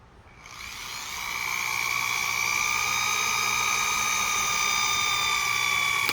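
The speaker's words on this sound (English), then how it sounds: "So you drill your hole right in the middle." A power drill, its bit gripped in a chuck, bores a hole through the middle of a homemade wooden bird-cage perch: a steady high whine that spins up quickly and then holds an even, loud pitch with no talking.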